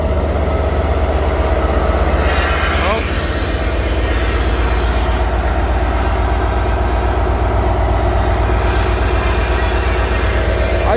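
A train passes through Ruabon station, producing loud, close rumbling with steady wheel noise and high squealing that sharpens partway through, continuing without break.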